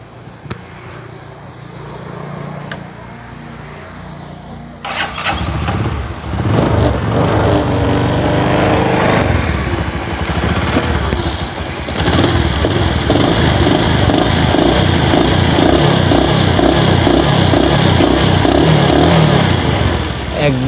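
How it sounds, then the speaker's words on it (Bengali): A Bajaj Discover 110cc motorcycle starts after a quiet stretch, then settles into a loud, steady close-up engine run with some revving, and voices come through under it. "আমরা গাড়িটা স্টার্ট দিয়ে আপনাদেরকে সাউন্ডটা শুনিয়ে দিচ্ছি"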